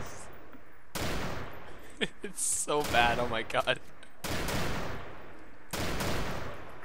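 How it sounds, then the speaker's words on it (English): A hand cannon fires in the DayZ video game: three loud, booming blasts, well spaced, with someone talking excitedly between the shots. "He's firing a cannon, holy fuck. It's a hand cannon."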